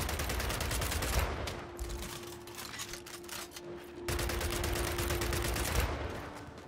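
A relic weapon in Gears 5 fires explosive rounds in a rapid string of sharp blasts, with a steady tone running under the middle stretch and the shots thickening again near the end.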